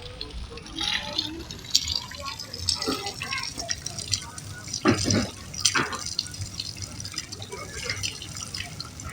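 A shower runs steadily at close range: a continuous rush of spraying water with splashes and drips throughout.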